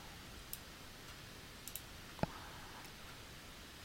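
Computer mouse clicks on an OK button, a few faint, soft clicks with one slightly crisper click, quiet and isolated.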